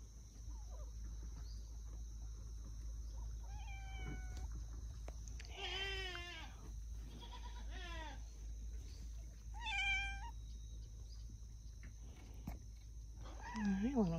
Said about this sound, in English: Hey, little kitty.